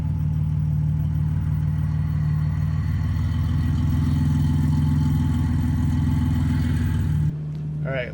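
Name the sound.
BMW E46 with swapped GM automatic running in reverse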